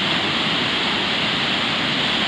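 Heavy water pours steadily over a stone arch dam on a river, a loud, continuous broadband roar with no pauses and no voices.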